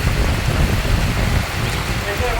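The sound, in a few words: rain falling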